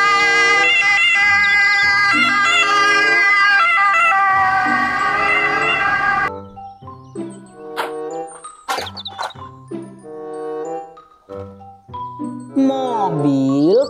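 A toy ambulance wailing its electronic siren loudly for several seconds, then cutting off into a jumble of short beeping tones and warbling electronic sound effects from the same toy.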